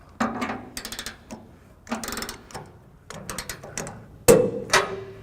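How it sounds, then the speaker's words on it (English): Trailer hitch bolts are torqued down on a 1998 Chevrolet truck: several short bursts of ratchet clicking, close and sharp, separated by pauses, with a metallic clank near the end. "we'll go ahead and finish torquing down the rest of the bolts"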